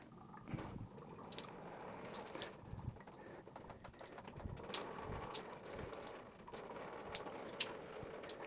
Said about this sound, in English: There's some water coming out.